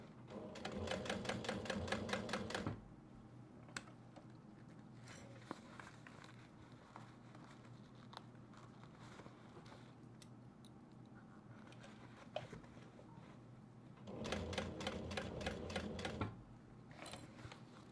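A sewing machine stitches a seam on a zippered fabric pouch in fast, even mechanical bursts, running for a few seconds, pausing through quieter handling noise, then stitching again near the end.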